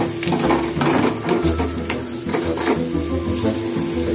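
Onions frying in a pan with salt and chili give a steady, loud sizzle with stirring scrapes and clinks close by, continuous throughout with no talk.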